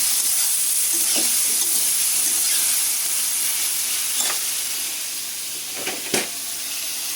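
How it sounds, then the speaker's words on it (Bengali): Eggplant frying in a pan fills the clip with a steady, loud, close sizzle and hiss, broken only by a few faint clicks near the end, with no voices. "আর বেগুনটা প্রায় ভাজা হয়ে আসছে।"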